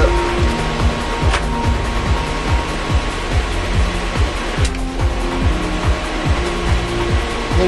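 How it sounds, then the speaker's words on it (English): A running rack server in a room fills the space with loud, steady fan whir, a constant mechanical drone with a rhythmic pulsing texture and no pauses throughout. "It's already got one server in it running. That's why it's noisy in here."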